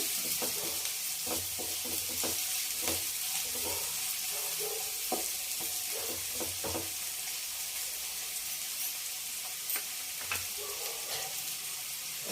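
Onions fry in a pan with a continuous crackling sizzle, broken by repeated scraping stirs and light utensil knocks at close range, at moderate loudness with no talking.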